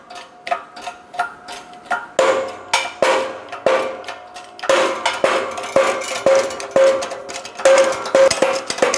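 A shop press pushes the forward lower control arm bushing out of a 2007-2012 Nissan Altima arm, giving a steady run of sharp metallic clicks and ticks in quick, repeated bursts.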